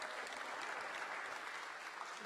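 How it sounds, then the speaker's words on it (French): A crowd at a sailing championship awards ceremony claps steadily, a dense, even wash of applause with no voices standing out. "Félicitations, applaudissements s'il vous plaît."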